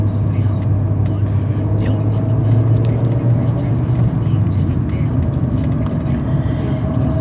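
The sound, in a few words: traffic with many trucks on Brazilian federal highway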